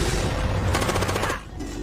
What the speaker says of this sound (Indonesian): terdengar suara tembakan yang berasal dari anak buah Emzamo yang baru datang